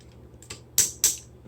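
Click joints on a Transformers: The Last Knight Calibur Optimus Prime figure, a few sharp close ratcheting clicks in quick succession, with two louder snaps near the end, no talking.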